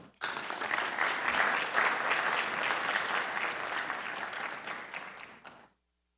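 Audience at a university honors colloquium welcoming Senate President Valerie Lawson with a burst of sustained applause, dense and even, starting abruptly and fading out after about five seconds.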